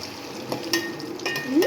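Homemade French fries frying in hot oil are stirred in the pan, with soft bubbling and a few light utensil clinks and scrapes, close and moderately loud, no talking.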